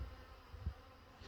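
Faint, steady buzzing of bees flying around a swarm trap outdoors, a thin insect drone with a brief louder pass partway through.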